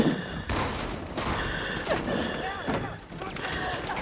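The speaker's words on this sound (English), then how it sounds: "they're shooting me left and right like greatly" Enemies fire guns in the video game Uncharted 2, with a string of sharp shots cracking every half second or so over a dense, busy backdrop of game sound.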